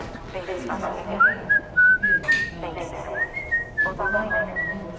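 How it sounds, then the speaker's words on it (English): A person whistles a short, wavering melodic tune of sustained notes and slides, fairly close and clear, with talking and background noise underneath. "And they do whistle to themselves."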